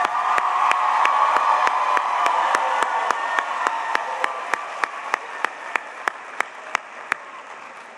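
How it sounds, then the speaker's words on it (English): An audience at a Teacher of the Year celebration gives a broad round of applause for the finalists, loud at first and gradually thinning, with sharp evenly spaced claps standing out as it fades. "Let's give them all a big round of applause."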